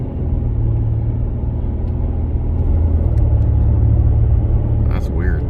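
Traffic on a busy highway at night, a continuous loud roar of passing cars and heavier vehicles with deep rumble, steady throughout, with a brief higher sweep at the end.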